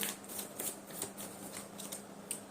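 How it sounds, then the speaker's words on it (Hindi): Tarot cards being picked and shuffled during a reading, with soft papery flicks and slides in quick irregular bursts, close and faint, no speech. "I want to peak to more cards for group number 2"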